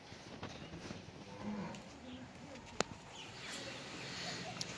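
A pregnant blue Nili-Ravi buffalo lows under steady outdoor background noise, with a sharp knock partway through and faint birds around.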